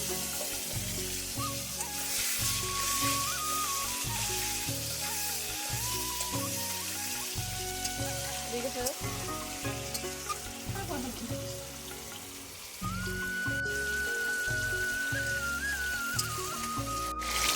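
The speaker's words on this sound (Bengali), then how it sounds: "আমি এবার মাংসের আলুগুলো ভেজে নেব।" Potatoes for a meat curry frying in oil, a continuous close sizzle and crackle running throughout with a faint tonal whine partway, no talk.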